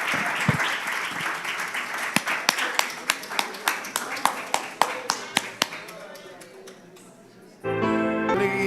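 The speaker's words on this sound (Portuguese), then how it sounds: "Vamos aplaudir a Jesus." A church congregation claps during a worship service, a dense, close round with sharp individual claps that thin out and fade, followed by a sudden louder burst of other sound near the end.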